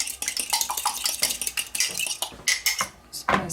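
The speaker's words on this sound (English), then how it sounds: "Give it a whisk." A whisk beats eggs into lemon drizzle cake batter in a bowl, producing rapid, irregular clinks and scrapes of metal against the bowl, close and fairly loud with no talking.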